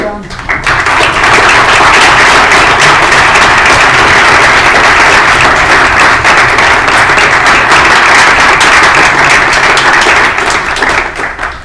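Loud, sustained audience applause fills a Senate chamber after a speech, dense and steady clapping running unbroken for about eleven seconds.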